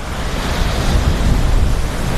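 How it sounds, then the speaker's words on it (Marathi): Sea waves wash onto a beach in a steady, loud, broadband rush with wind noise buffeting the microphone, no voices present. "समुद्र बघा किती मस्त"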